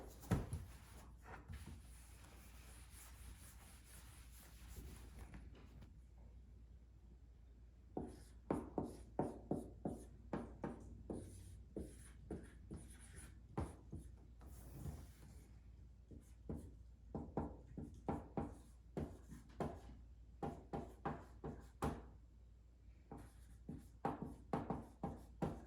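A marker writes on a board in quick bursts of squeaky strokes, after a short pause, close and fairly quiet, with no talking.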